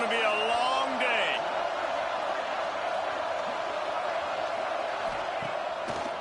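A stadium crowd in an NCAA football video game roars in a steady, dense wash of noise, with a brief whistle-like cheer near the start and a commentator's voice partly over the crowd.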